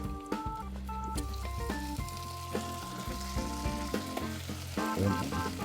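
Steady frying sizzle from a pan on an electric stove as tomatoes go in for pechay sinigang, a continuous hiss running under a tonal musical background.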